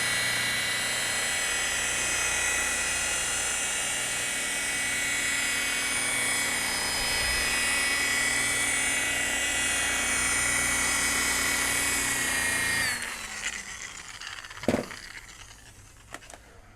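A rotary polisher with a wool pad buffs an oxidized boat hull, giving a steady, loud, high motor whine. The whine runs unbroken for about thirteen seconds, then spins down to faint handling noises and a single knock.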